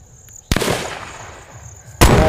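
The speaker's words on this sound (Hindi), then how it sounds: "shoot the sniper shoot the sniper" Two sharp, loud sniper rifle shots ring out in a western shooting game, about a second and a half apart, each followed by a short rumbling decay.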